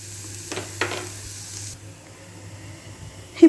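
Broad beans fry in a pan with a soft, steady sizzle, marked by a couple of brief scraping stir sounds early on and a sharp clink at the end.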